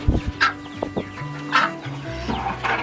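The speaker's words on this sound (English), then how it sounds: "apparently we have a broody hen that I didn't know about" A broody hen sitting on a clutch of eggs on a homestead gives a few low, throaty clucks and grumbles, close by and irregular, with a brief higher squawk between them and no talking.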